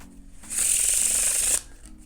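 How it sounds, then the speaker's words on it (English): Playing cards being faro shuffled by hand, one bright, close riffling burst lasting about a second, with quiet handling noise before and after. "That is the FARO Shuffle."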